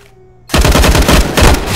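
SMG gunfire in CS:GO on the Mirage map: a loud, close burst of rapid automatic shots that starts abruptly after a short silence and runs on with a brief dip near the end.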